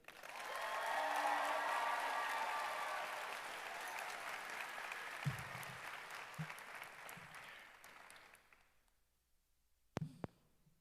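Warm applause from a graduation ceremony audience at Harrison School for the Arts, swelling quickly and holding steady for several seconds before it thins and dies away, followed by a few scattered thumps and quiet.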